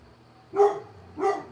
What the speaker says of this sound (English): Luna, don't lay in the house and bark